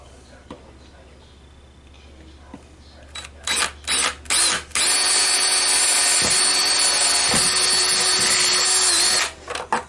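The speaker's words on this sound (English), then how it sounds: "I'm going to drill a hole." A power drill boring a hole during toilet and water heater repair work, a few short bursts and then a long loud continuous whine lasting several seconds, close to the listener.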